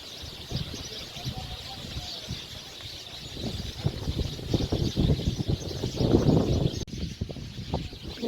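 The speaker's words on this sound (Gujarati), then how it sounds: "જો કેવો પક્ષીઓનો અવાજ નેચરલ." Outdoor birds chirp faintly in natural surroundings near a temple on a scenic trip, scattered calls over wind and background rumble with some nearby voices.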